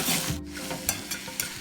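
Garlic, ginger, green chilli and chopped onion with salt fry in hot oil. A short burst of sizzling is broken by a few quick scrapes of stirring.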